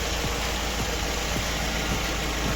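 An Opel Vectra C 2.2 engine idles steadily after a valve cover gasket replacement, with a close, even hum and a soft rhythmic ticking pulse about every half second.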